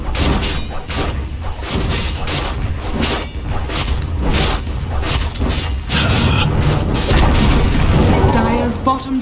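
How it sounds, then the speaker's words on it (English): A Dota 2 match rumbles with repeated booms and thuds as the Dire bottom tower comes down, dense layered impacts and battle effects running loud and continuous throughout. "Dire's bottom tower has fallen."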